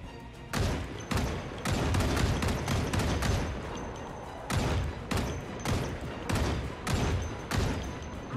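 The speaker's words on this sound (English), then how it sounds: "When we're done reloading, we'll turn and fire at them." Repeated gunshots in the video game Project Zomboid, a series of loud sharp blasts spaced roughly half a second to a second apart over several seconds, some in quick pairs.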